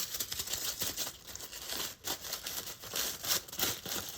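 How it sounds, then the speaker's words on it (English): Sheet of deli paper being crumpled by hand into a tiny ball, heard up close as continuous crackling and crinkling rustles with brief pauses. "Let's crumple it up even more this time into a teeny tiny ball."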